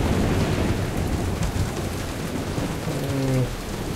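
A heavy storm with a steady downpour of rain and low rolling thunder, a dense, continuous wash of noise that eases briefly near the end.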